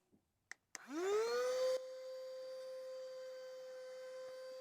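A handheld vacuum cleaner used on dusty car interior; a few clicks, then the motor spins up with a rising whine and settles into a steady, close, high-pitched hum that runs to the end, with no talk.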